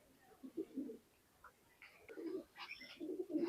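Pakistani high flying pigeons, a red-eyed pair, giving soft low cooing phrases in short bursts, close but faint, with some quiet background noise between calls.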